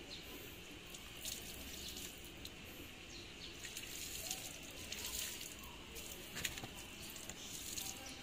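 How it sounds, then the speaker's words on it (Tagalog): Water poured over the chain and cogs of a Keysto Evolution bicycle during cleaning, a soft continuous splashing and trickling with scattered drips and patter throughout. "Naman bubuhusan natin tubig."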